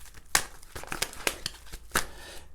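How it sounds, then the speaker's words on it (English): Tarot cards being shuffled by hand make a quick series of crisp riffling snaps and soft papery rustles, close and fairly loud, with no talk. "I'm just going to shuffle these cards now"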